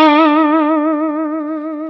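Electric guitar holding a single sustained note with fast, wide vibrato, the pitch wobbling quickly up and down in a springy boing, loud and close with effects-laden tone, fading slightly over two seconds.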